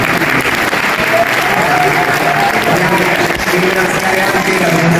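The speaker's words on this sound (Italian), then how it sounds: "per un applauso più che" Loud, sustained applause from a large audience at a cultural mission event, dense steady clapping filling the whole stretch with some voices mixed in.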